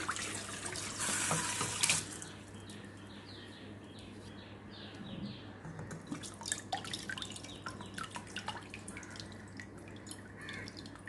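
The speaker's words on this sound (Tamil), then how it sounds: "ஒரு 10 நிமிஷம் அப்படியே தண்ணி வடியறதுக்கு விட்டுறலாம்." Water drips faintly and irregularly from soaked raw rice left to drain in a kitchen, after a brief splashing pour at the start, in a quiet room with no talking.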